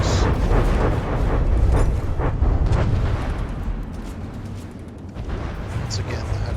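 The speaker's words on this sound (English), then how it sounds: "Huge hit. Missiles." Missile hits and explosions in a space battle video game, heavy rumbling booms and crackling blasts rolling one into another at high volume, with a voice speaking over them.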